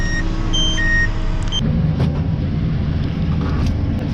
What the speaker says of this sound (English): as it starts beeping at me